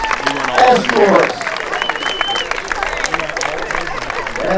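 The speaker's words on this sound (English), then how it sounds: "let's give a round of applause to all our candidates, escorts," Crowd applause fills a homecoming coronation, a steady wash of clapping and cheering with a louder surge near the start before settling into sustained clapping and babble.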